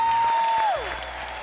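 An audience on a televised music show applauds in a dense wash of clapping that fades to a quieter level after a fading tone.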